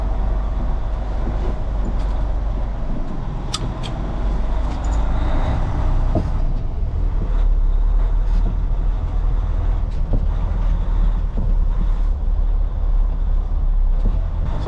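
Heavy semi truck with a Detroit or Cat diesel, Freightliner Cascadia or Kenworth W900L, shifted into drive and pulling away: a loud, steady low engine rumble and drivetrain drone from inside the cab, with a few clunks along the way.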